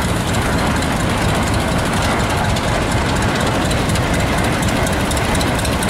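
A John Deere G tractor pulling a three-bottom John Deere plow in a steam and gas show parade runs loud and steady, its engine a continuous dense rumble with no pauses and no talk.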